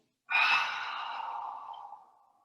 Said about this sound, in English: Audible exhale through the mouth.